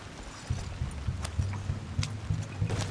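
A horse's hooves clip-clop in Red Dead Redemption 2 at an even walking rhythm, close and clear, with a few soft thuds between the steps.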